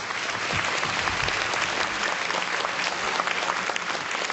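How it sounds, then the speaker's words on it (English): A crowd claps steadily, a dense, even wash of applause that stays loud from start to finish. "with a big round of applause"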